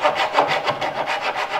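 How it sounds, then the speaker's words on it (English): A hand saw cuts through wood while a large desk is being built, with quick, evenly repeated back-and-forth strokes rasping close by, alone and without voices. "why don't we just take a saw like this and make quick work out of it?"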